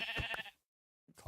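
A single bleat from a Minecraft sheep, short and wavering, followed by silence and then a brief onset of another sound.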